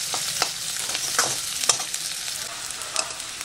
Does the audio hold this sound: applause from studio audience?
no